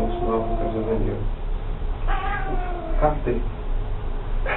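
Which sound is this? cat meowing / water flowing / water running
cat meowing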